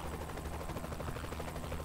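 A helicopter in Saints Row: The Third keeps up a steady rapid rotor thump over a low engine drone, close and constant throughout, with no talking.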